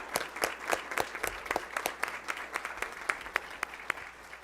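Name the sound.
audience applause at board meeting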